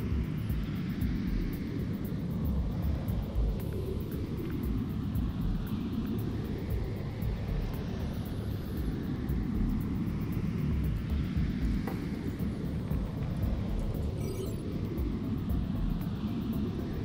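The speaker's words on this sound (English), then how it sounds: "Quantum slipstream is loud." Quantum slipstream drive of a starship in the game Star Trek Online, a loud, continuous, deep roaring rumble that holds steady throughout with no voices.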